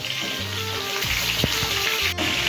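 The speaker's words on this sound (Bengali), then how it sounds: "এবারে দেবো হচ্ছে কাঁচা লঙ্কা আর টমেটো কুচি দিয়ে এটাকে ভালো করে ভেজে নেব।" Papaya fries in a pan with green chilli and chopped tomato, giving a close, steady sizzle with a few stirring scrapes and clinks throughout.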